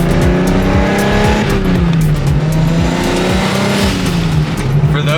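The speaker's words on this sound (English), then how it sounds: "Insert a clip of me ripping by with that big single turbo." A BMW 335i with an N54 engine and a big single turbo rips past loud and close, its engine note rising and falling with a steady roar and some tire noise over the full pass.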